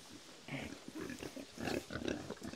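Berkshire-Duroc crossbred pigs grunt and snuffle softly nearby on a small farm, a faint, irregular series of low grunts rising and falling over a few seconds.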